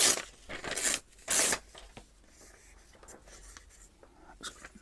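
A page of a French dictionary is ripped out by hand, with several sharp tearing bursts in the first seconds followed by softer paper rustles and scrapes.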